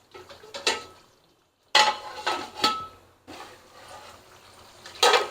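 A lid clinks and clatters onto a pot of black pepper chicken gravy, with several close metallic knocks and scrapes separated by brief pauses.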